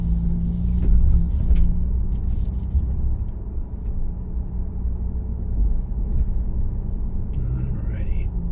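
A 2025 Ford Bronco Stroppe Edition pulling in gives off a low, steady engine rumble with some road noise, while someone talks over it.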